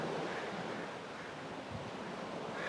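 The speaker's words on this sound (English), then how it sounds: "Hearing the ocean" Ocean waves washing in a steady broad rush, with breezy wind noise on the microphone and no voices.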